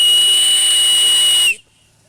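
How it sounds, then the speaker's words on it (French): A steam whistle on a radio-controlled model steam launch blows one loud, steady, shrill tone with hissing steam for about a second and a half, then cuts off sharply into quiet. "Je constate que tu as fait poser un sifflet. Est-ce que tu peux me nous montrer?"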